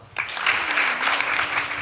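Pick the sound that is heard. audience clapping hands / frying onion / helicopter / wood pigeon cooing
audience clapping hands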